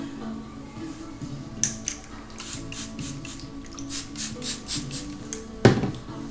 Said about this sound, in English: That's just water that I'm spraying in my hair.